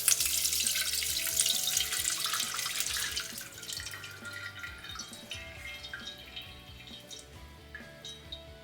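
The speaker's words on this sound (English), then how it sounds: "So you just want to like pour your oil over it." Oil poured into the cooking pot for Senegalese jollof rice (thiep) gives a steady liquid pouring and trickling sound, loud at first and then thinning into lighter drips and sizzles, with no talk.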